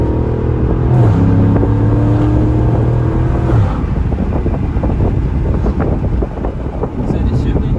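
A Chrysler 300 SRT engine pulls steadily while driving, then its droning note drops sharply as the transmission shifts gears, followed by a rougher rumble mixed with wind buffeting.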